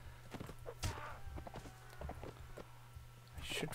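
Horse hoofbeats in the video game Mount & Blade: Warband, irregular thuds over a low engine-like hum, with other battle noises mixed in.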